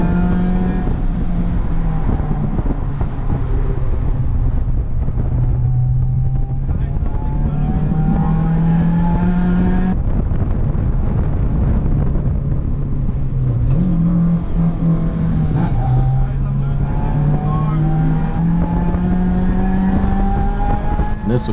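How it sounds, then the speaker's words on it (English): A race car engine drones loudly and continuously, its pitch dipping and recovering as the motor stutters and cuts out at intervals during the race. "Rob starts having troubles with the engine cutting out on him"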